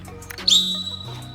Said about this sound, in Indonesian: wasit 1 nanti akan membunyikan peluit